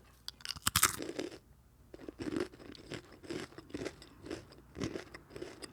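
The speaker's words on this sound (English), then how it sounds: "Peanut butter pretzel ASMR." Crunchy peanut butter pretzels bitten and chewed close to the mic, a loud cluster of sharp crunches at first, then a steady series of rhythmic chewing crunches, with no talking.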